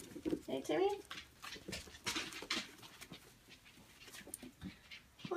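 Seven-week-old puppies pant in quick, soft rhythmic breaths with a few brief high whimpers, close by and fairly faint, while a person talks to them nearby.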